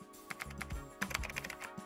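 Rapid keystrokes on a computer keyboard while renaming a Webflow component, a short burst of close, crisp clicks in an uneven rhythm with no voice.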